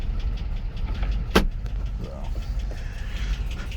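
A 2006 GMC Sierra 2500HD truck engine running, a steady low rumble close by with a single sharp click partway through and faint mechanical sounds over it.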